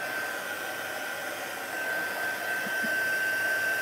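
A hair dryer or heat tool blows a steady whooshing roar with a faint high whine while drying a mixed media craft project up close, rising slightly toward the end.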